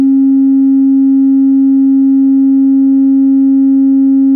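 A steady low test tone plays through a small 3D-printed tuba-style horn subwoofer, one unbroken pitch held loud and even for several seconds, with faint buzzy overtones and no voices.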